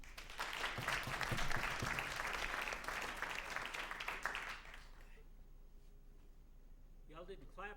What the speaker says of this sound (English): Y'all didn't clap long enough.